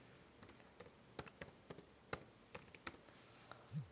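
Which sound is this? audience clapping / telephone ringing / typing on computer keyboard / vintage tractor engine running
typing on computer keyboard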